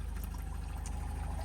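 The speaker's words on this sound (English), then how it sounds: "we've got the water maker going" A boat's water maker runs, producing fresh water, with a steady pumping hum and a continuous pouring, trickling flow of water, fairly quiet and without voices.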